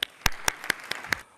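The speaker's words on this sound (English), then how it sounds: "Let's start with a big round of applause." Sparse, separate claps at the start of a conference session on smart cities in India, about six distinct sharp hits spaced evenly in a quiet hall, rather faint overall.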